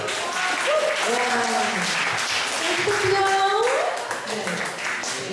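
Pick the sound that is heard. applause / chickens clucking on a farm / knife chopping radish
applause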